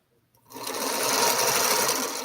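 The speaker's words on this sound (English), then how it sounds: "I'm going to sew some of these blocks" A sewing machine stitching quilt blocks starts up after a brief quiet and runs in a steady, loud, close whir for about two seconds before easing slightly, with no talk.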